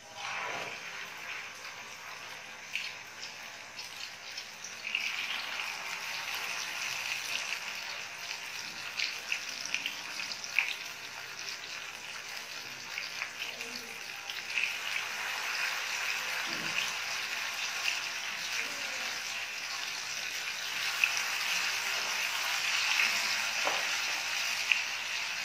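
Hot oil heating in a pan for onion piyaju fritters gives a faint, continuous hissing sizzle with occasional small pops and crackles throughout.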